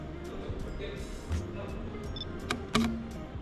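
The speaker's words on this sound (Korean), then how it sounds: "사진 촬영할 때 셔터를 누르면 셔터가 희한하게 찰칵 하고 천천히 작동하는 느낌입니다" A Panasonic Lumix S5II camera fires its shutter with a couple of soft mechanical clicks, slow and spaced, near and quiet over low room hum and faint background talk.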